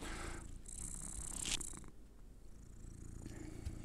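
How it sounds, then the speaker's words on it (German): Soft, close purring from a male cat, a faint continuous rumble in a quiet room, with a small rustle partway through. "Kater möchte auch Aufmerksamkeit."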